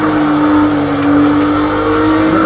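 A Group C race car in Project Cars 2 drones steadily through a difficult right-hand corner, its loud engine note holding a sustained whine at close range with no break or talk over it.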